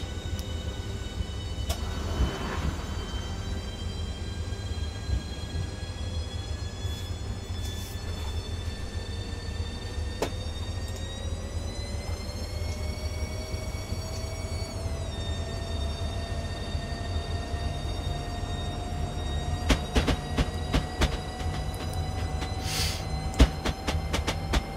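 Class 395 electric train running on the South London network in Train Simulator 2018, a steady low rumble under a gradually rising motor whine, with clicks of wheels over track joints and no talking.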